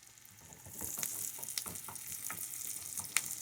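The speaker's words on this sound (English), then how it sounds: "You just want these onions to get a little soft" Onions softening in butter in a pan give a steady close sizzle, with a few soft stirring clicks and scrapes scattered through it.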